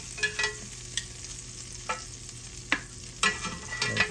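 Vegetables for a garnish sizzle on a hot grill, a soft steady hiss broken by a few sharp scrapes and clacks of a utensil moving them, close and moderately quiet with no talk.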